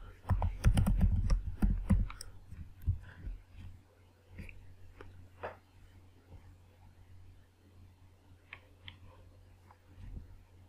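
Keys clatter in a quick burst on a computer keyboard as a password is typed, fast clicks at first, then sparser taps and clicks trailing off, close and fairly soft.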